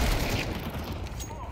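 Gunfire hitting the player in a shooter video game, a quick burst of sharp shots at the start that trails off into quieter crackles.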